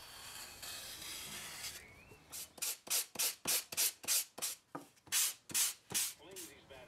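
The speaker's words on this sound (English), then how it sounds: "you can use a knife and a saw just to roughly cut out the shape and then sand it down to what you want" Hand sanding of foam for a model trainer airplane fuselage: a quick series of about a dozen rhythmic rasping strokes, close and fairly loud, after a softer hiss at the start.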